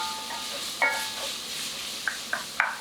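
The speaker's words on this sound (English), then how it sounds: "we're going to let that just caramelize on the bottom of the pan for a few minutes" Sun-dried tomatoes and artichoke hearts sizzle softly in a pan, a faint steady hiss broken by a few sharp utensil clinks against the cookware.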